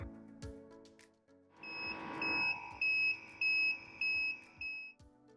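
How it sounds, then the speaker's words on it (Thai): An automatic water pH controller sounds its alarm with a series of five clear, evenly spaced electronic beeps, close and loud, following button clicks and some handling noise. "เลือก Alarm Setting Sound On เป็นการเปิดเสียงแจ้งเตือน"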